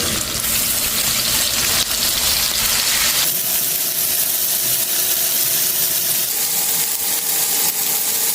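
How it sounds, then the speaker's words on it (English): Oxtails seasoned with salt, pepper and curry powder brown in a hot pan, giving a loud, steady, close sizzle and crackle that runs without a break and without voices. "Brown your oxtails and season the other side with the same seasonings"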